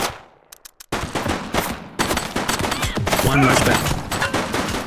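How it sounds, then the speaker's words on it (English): Gunfire in the police video game The Precinct, dense bursts of rapid shots that start after a brief quiet and carry on continuously, with shouted voices over the shooting. "She's shooting!"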